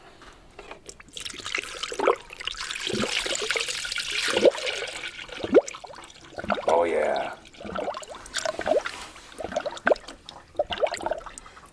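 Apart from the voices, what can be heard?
coolant poured into Foxbody Mustang radiator, burping air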